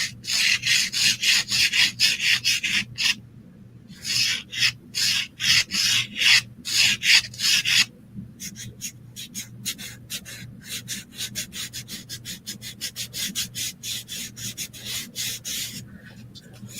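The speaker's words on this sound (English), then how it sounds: "And then you just rub that and blend that in right over the top." Brush or cloth rubbing paint across a canvas while blending shading on painted lemons, a close, steady run of quick scratchy strokes that pauses briefly and then continues in a faster, lighter rhythm with no talk.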